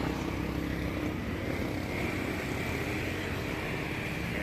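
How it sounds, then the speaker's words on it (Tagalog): Dense street traffic with many vehicles passing a roadside tire and mag wheel shop, a continuous loud wash of engine and tire noise with no clear gaps. "Maraming sasakyan."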